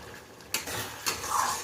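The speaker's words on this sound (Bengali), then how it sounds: "দিয়ে দিচ্ছি টমেটো পেস্ট" Tomato paste dropped into a cooking pan for a fish lunch: two soft scraping, sizzling bursts about half a second apart, close by, with no talking.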